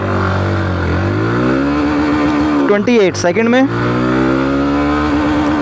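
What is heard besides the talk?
Hero Glamour X 125 motorcycle accelerating through gears in top-speed test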